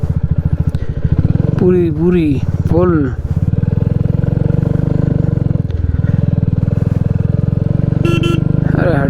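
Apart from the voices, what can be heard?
motorcycle riding and slipping on a loose dirt road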